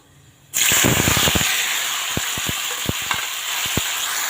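Chopped tomatoes dropped into a hot pan burst into a loud, sudden sizzle that holds steady, with scattered crackles and pops as they fry.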